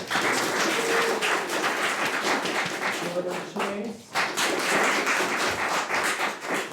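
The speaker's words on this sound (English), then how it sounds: "let's give a round of applause to our wonderful composition teachers" Applause for composition teachers at a music masterclass, steady and fairly close, with a voice talking over the clapping.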